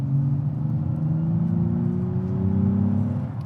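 The new Nissan Z's engine drones steadily from inside the car on a twisty mountain road, a strong low hum with rising engine tones as it pulls, with road rumble beneath and no talking.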